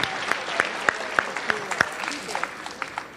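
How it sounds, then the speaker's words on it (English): An eighth-grade graduation audience at Maxson School applauds with scattered, crisp hand claps at a moderate level, a steady patter with a few sharper claps standing out. "Let's clap it up for him anyway."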